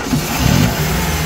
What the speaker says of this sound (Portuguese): Pedi para um amigo dar a partida aqui no motor.